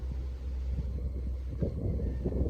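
Strong wind gusts buffet the microphone outdoors during a hunt, producing a low, rumbling roar that swells and dips unevenly.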